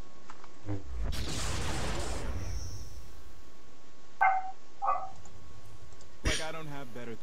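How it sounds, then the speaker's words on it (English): A dog barks a few short, sharp times at a distance, with game sounds and bursts of voice in between. "Shut up, dog."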